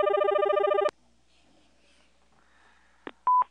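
A telephone rings in a loud, steady burst lasting just under a second and then stops abruptly. A few brief electronic beeps follow near the end, and there is no talking.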